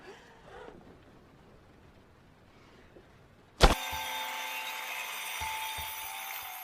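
A chainsaw in a psychopath film scene cuts through a body. It bursts in loud and sudden after quiet, muffled talk, then keeps up a harsh, steady buzzing roar with a few thuds underneath.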